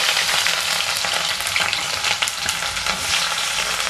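Chopped onion fries in hot oil in a pot for tamarind-leaf egg curry, a loud, continuous bright sizzle with crackling and occasional stirring, no voices.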